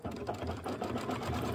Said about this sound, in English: let it sew the quarter inch